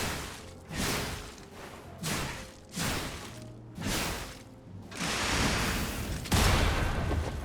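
Series of explosive fire shots in the video game Lies of P, five or six booming blasts with whooshes spaced about a second apart, growing denser and louder toward the end.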